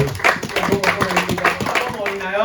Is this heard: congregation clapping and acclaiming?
yes